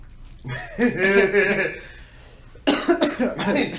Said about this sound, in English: You coughing a lot, boy